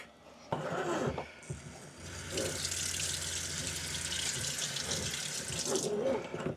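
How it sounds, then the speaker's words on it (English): Water runs steadily from a kitchen faucet fitted with a sprayer nozzle, a hissing close-up stream that starts, briefly pauses, then flows on into a sink inside a box truck tiny home. "Definitely like having the faucet with the little sprayer nozzle on it."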